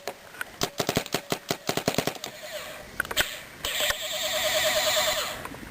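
A Spyder/JT mix paintball marker fires a quick string of about a dozen sharp shots in the first two seconds, then a few more spaced pops, ending in a steady hiss of air.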